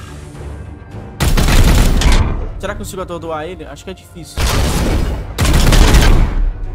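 Loud bursts of rapid gunfire and booming shots in Warhammer 40,000: Chaos Gate - Daemonhunters come in two heavy volleys, with someone speaking in the quieter gap between them.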